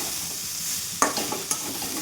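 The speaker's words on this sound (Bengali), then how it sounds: "মাথাটাও মিশে গেল, মশলার সঙ্গে ভাজা ভাজা হয়ে যাচ্ছে" A fish head fries with spices in a pan, giving a low steady sizzle close by, broken by two sharp scraping taps of a spoon against the pan.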